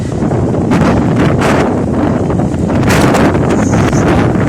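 Strong windstorm in Giresun, Turkey, buffeting the microphone in loud, continuous roaring gusts, with rustling in the background.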